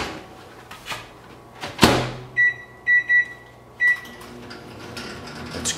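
A microwave oven is set to heat a Jimmy Dean sausage breakfast bowl. A door thuds shut nearby, then a run of short, sharp electronic keypad beeps follows, with a final beep after a pause. Faint room noise sits underneath, with no talking.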